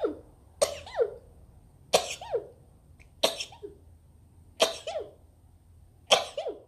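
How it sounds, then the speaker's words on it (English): Five sharp sneezes in a row, evenly spaced about a second and a half apart, each a loud burst with a quick breathy tail, close to the mic. "Oh, I'm gonna sneeze."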